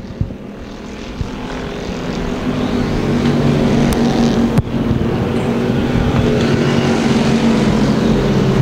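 IMCA Hobby Stock race cars roaring around Thunder Hill Speedway during a heat race, a loud, steady engine drone that swells gradually, with one brief sharp knock partway through and no talk.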